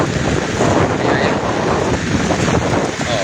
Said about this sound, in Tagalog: Wala, may bagyo na. May hangin na siya.